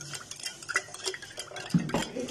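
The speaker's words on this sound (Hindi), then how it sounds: "यहाँ मैं बना रही हूँ शरबत इस चम्मच से" A spoon stirring sharbat in a vessel over low heat gives soft irregular clinks and scrapes, close and fairly faint, with a few sharper knocks near the end.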